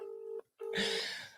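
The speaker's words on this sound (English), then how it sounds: "Look, Charlie's trying to phone him" Telephone number being dialled, two short keypad tones in quick succession, the second longer and mixed with a brief hiss, fairly faint and with no voices.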